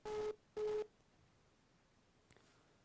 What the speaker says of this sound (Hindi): लगता है संपर्क टूट गया है